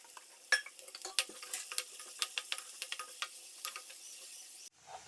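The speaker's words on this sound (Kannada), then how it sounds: "ಈಗ ಚಿಕ್ಕದಾದ ಒಂದು ಈರುಳ್ಳಿ ಹಚ್ಚಿಟ್ಕೊಂಡಿದ್ದೇನೆ, ಇದನ್ನು ಕೂಡ ಆ್ಯಡ್ ಮಾಡ್ತೇನೆ." Chopped onion frying in a pan for egg rice gives a soft, close sizzle with a steady patter of small crackles and pops. It cuts off sharply near the end.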